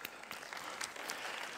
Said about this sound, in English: So let's give them a quick hand.